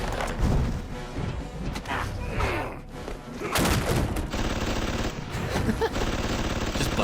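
Rapid bursts of gunfire and heavy impacts erupt in an animated fight between Venom and Bane, loud and dense with crashes and thuds layered over a busy soundtrack.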